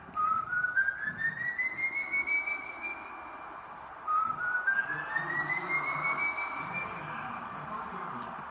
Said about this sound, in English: This is the video of El Sìłbõń whistling.